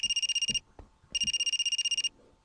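A telephone rings in a video game, two bursts of steady electronic trills, each about half a second long and fairly loud, with a short gap between them and some faint low background noise.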